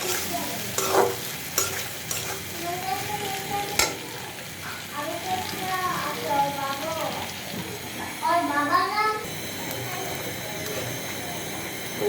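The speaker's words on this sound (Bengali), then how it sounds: "আলুটা আমি সুন্দর করে কষাই নেব" Potatoes stir-fry in oil in a pan with a splash of water, a continuous sizzle and scraping heard close up beneath a person talking throughout.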